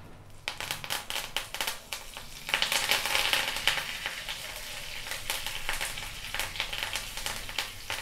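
Curry leaves frying in hot oil with tempering seeds for an onion chutney, giving a faint, continuous crackling sizzle with sharp pops and spatters throughout, no voices.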